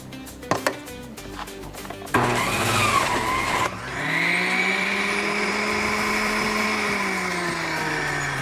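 A juicer grinds through onion, lemon and pineapple for a liver detox juice, starting with a few sharp knocks and clatters, then a loud steady whirring motor whine that rises in tone and drones on alone.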